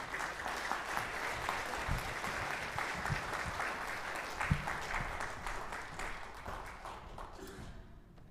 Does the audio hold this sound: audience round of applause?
yes